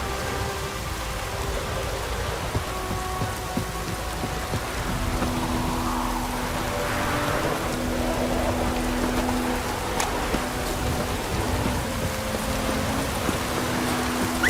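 Steady, even rainfall in the video game The Witcher 3: Wild Hunt, at White Orchard, patters continuously with a low rumbling undertone, no voices, a constant wash of sound throughout.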